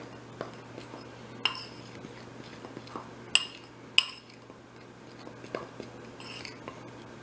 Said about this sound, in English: I'm just going to use a fork here to gently mix these together